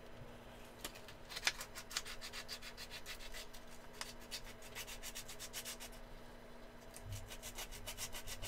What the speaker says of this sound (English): This is the weirdest thing to sand, man.